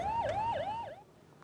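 An ambulance siren wails in Delhi traffic, a clear rising-and-falling electronic tone repeating about three times in quick cycles before cutting off, moderately loud over faint street noise.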